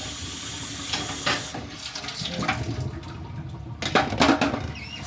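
Tap water runs steadily into a kitchen sink as it is cleaned out, splashing and gurgling with shifting intensity, louder bursts near the end, close and alone without voices.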